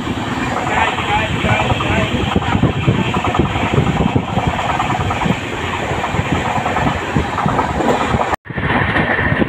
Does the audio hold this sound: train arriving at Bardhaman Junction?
yes